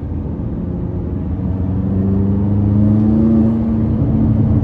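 Tuned 664hp McLaren 570S under way, heard as a muffled cabin drone that swells into a louder steady engine hum with tonal whine toward the end, no talk over it.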